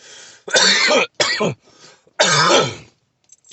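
Several harsh coughs in quick bursts, close and loud, with short pauses between them and a quieter tail at the end.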